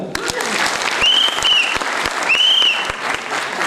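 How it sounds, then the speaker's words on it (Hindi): An audience at an Indian tribute concert claps loudly and steadily in a close, dense burst of applause, with a brief whistling tone sounding over it. "बहुत खुश है हम सब, तालियां।"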